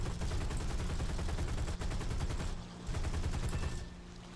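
Rapid bursts of aircraft machine-gun fire in the combat flight game War Thunder during a dogfight with a Spitfire, fast rattling volleys that pause briefly and resume, loud and continuous over steady engine drone.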